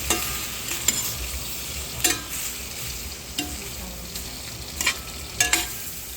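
Shrimp sizzle in a hot pan on a home stove while a utensil stirs them, with irregular scraping strokes over a constant frying hiss and no talking.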